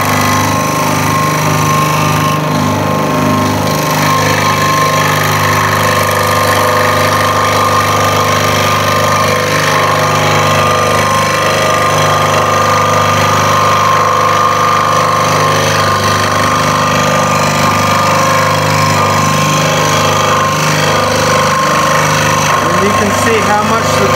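A saw blade pushed through material on a workshop saw. It makes a loud, continuous buzzing drone with steady tonal whine, unbroken for the whole stretch, with no other sounds rising above it.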